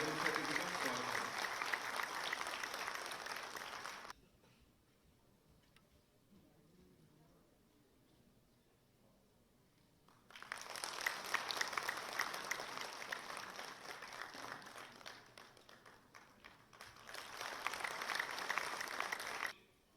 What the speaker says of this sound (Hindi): जोरदार तालियों से हमारे मुख्य अतिथि का स्वागत करें